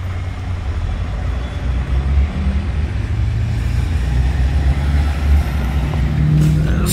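A 2015 BMW 228i with a 2.0-liter turbo engine runs steadily up close, a low continuous drone without clear revving, filling the whole stretch alone.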